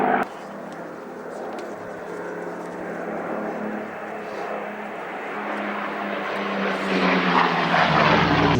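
A Messerschmitt Bf 109 fighter's aircraft engine starts up for taxi at an air show airfield, a loud, broad propeller roar that holds steady and swells stronger toward the end.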